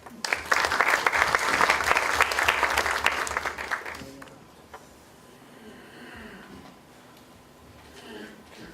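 At an international forum on Latin America, the audience applauds speaker Leonardo with a loud burst of clapping for about four seconds that fades away, followed by quiet room noise and soft talk.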